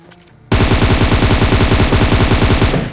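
Rapid automatic gunfire in PUBG, fired through a red dot sight, blasts in one loud continuous burst of evenly spaced shots lasting a couple of seconds, close and dominant.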